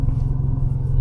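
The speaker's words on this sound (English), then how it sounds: "I'll put it in third gear and rev it." A car engine held in third gear gives a loud, close, low rumbling drone, steady and throaty across the whole moment with no voices.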